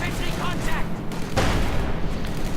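A Teller mine detonates beneath a T-34 tank in a World War II strategy game, a loud sustained blast with rumbling fusillade-like gunfire layered through the whole short moment, and a voice talking over it.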